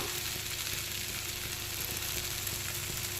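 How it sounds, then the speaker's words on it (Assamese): Sesame seeds fry in a pan with a steady, dense crackle and sizzle that holds even throughout, with no voices. "তিল দি দিছোঁ। এইখিনি অকণমান দেৰি এনেকৈ ভাজি ল'ম।"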